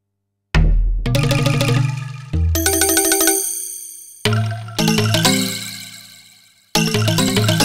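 Roland JD800 synthesizer Spunglass factory preset: glassy, bell-like struck chords with deep bass, four separate hits each ringing and slowly decaying, played alone.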